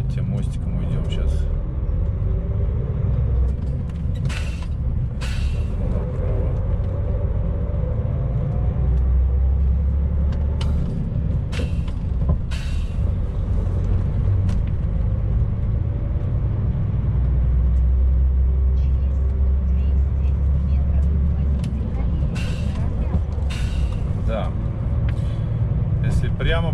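Car driving along the road into Surgut, a continuous loud low engine and tyre rumble from inside the cabin with people talking over it.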